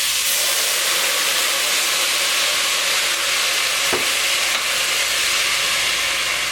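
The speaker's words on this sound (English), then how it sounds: "and I hit it with the white wine" White wine hits the center of a very hot pan, set among vegetables pushed to the sides for tomato soup, and sizzles loudly as a constant dense hiss close by, steady throughout with a faint clink near the middle.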